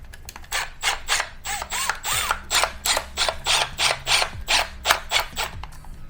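A screw is turned into an electrical cover with a rhythmic rasping, ratcheting sound, regular bursts about twice a second and close by, with faint squeaks between strokes and no voices.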